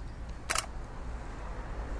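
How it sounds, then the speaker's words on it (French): A DSLR camera's shutter release fires once, a single crisp mechanical click-clack in a quiet room, with nothing else but low background hiss. "Ensuite, je vais déclencher et je vais seulement relâcher à mi-course"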